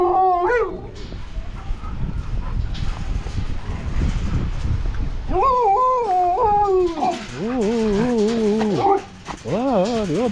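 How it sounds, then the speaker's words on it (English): Several sled dogs at a husky farm howl and whine in rising, wavering bursts, loud and close, with pauses of general noise between the choruses. "There's some more dogs."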